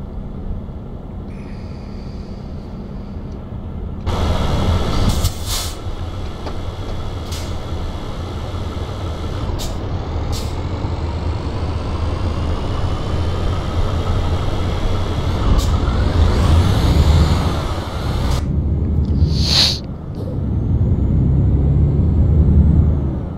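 A truck's air brakes bring it to a stop at night, with loud hissing bursts of released air over a steady engine rumble.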